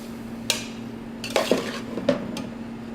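A metal spoon scrapes and clinks against a pan while chili is stirred with browning beef, garlic, onions and roasted red peppers, a few irregular knocks over a steady low hum.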